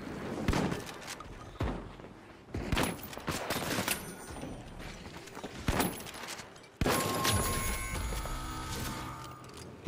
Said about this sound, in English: Bro, 1887 is just a great gun.